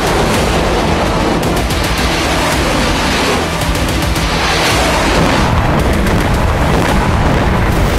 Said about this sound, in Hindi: हमले के लिए हिजबुल्ला ने कत्यूशा रॉकेट का इस्तेमाल किया।